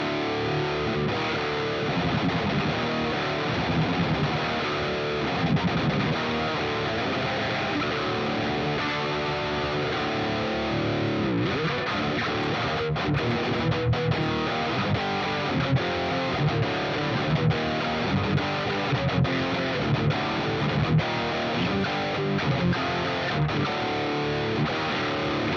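Heavily distorted metal electric guitar tuned to D standard, played through a crunch amp plugin, chugging riffs fill the whole stretch at a steady loud level with no voices.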